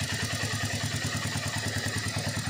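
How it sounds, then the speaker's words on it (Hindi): A Royal Enfield Meteor 350 motorcycle engine idles close by with a steady, rapid mechanical ticking and low rumble, nothing else heard. "अभी जो है इंजन की साउंड सुन लीजिए आप"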